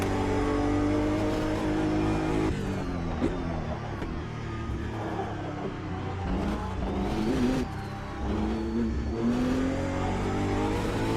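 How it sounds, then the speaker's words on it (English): A BMW GT3 race car in a racing video game, heard from the cockpit: a continuous engine drone that rises and falls with gear changes and acceleration, fairly muted and with no one talking. "that engine doesn't sound great from the inside, does it?"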